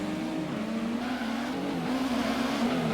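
A Toyota Supra race car in Gran Turismo on the PS1 holds a steady, droning engine tone at moderate volume, the pitch drifting slightly as it drives on without pause.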